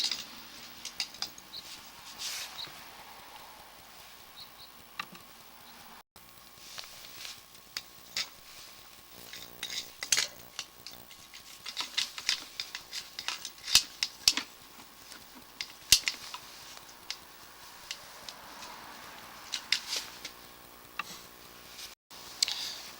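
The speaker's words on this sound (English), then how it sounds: "It's a 3-inch ABS line, plastic that is. Let's go ahead and drop our camera on in there." An inspection camera pushed into a 3-inch plastic ABS drain line at a cleanout, giving quiet, irregular ticks, scrapes and light patter of the cable sliding along, with no talking.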